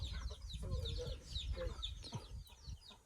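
Chicks and chickens on a house construction site in the Philippines chirp and cluck continuously, with low rumbling background noise and faint talk nearby.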